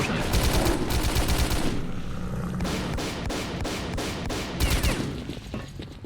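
Dense, loud bursts of rapid automatic gunfire with scattered single shots ring out in the S.T.A.L.K.E.R. shooter game, volleys surging and easing over several seconds with no talk over them.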